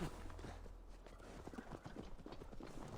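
Horse hooves walking in Assassin's Creed Valhalla, a steady clip-clop of repeated hoof falls at moderate volume over a low game ambience, with no talk.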